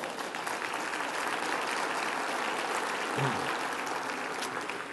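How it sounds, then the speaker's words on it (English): Steady applause from a crowd, a dense wash of clapping holding at an even level throughout, with no voices standing out. "I think that deserves a round of applause"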